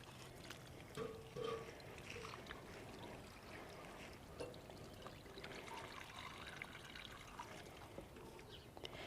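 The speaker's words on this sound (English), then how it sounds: "Now I'm going to direct this water more towards the back." Water pours steadily from a watering can onto the base of a hydrangea in a window box, a soft continuous trickle and splash with a few small drips, heard alone and close.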